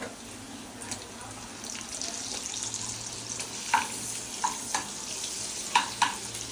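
Butter sizzling in a pan while paneer curry cooks, a steady soft crackle with a few brief clinks of a utensil near the end, fairly quiet and without talk.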